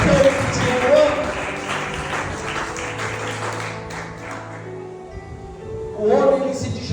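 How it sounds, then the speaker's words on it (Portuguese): Church congregation applauding, a broad wash of clapping that swells, fades, then returns, mixed with voices and talk throughout. "Será que você pode aplaudir dessa vez?"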